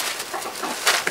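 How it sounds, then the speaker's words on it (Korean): Chicken tied up in a rural Korean house yard, giving several close, fairly loud clucks in quick succession with no talk. "그런데 마당에 닭이 묶여 있네요."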